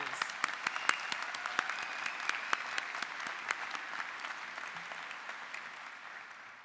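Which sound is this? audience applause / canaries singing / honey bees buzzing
audience applause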